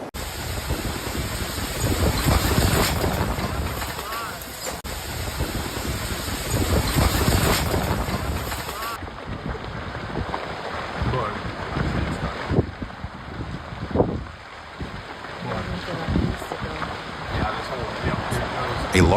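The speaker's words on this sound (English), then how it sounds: "The video shows a strong wind blowing past his house, blowing leaves off trees and scattering them to the ground." Strong wind gusts past a house in Brooklyn, tearing leaves off the trees. It roars loudly and steadily with heavy buffeting on the microphone, and a voice is heard faintly at times.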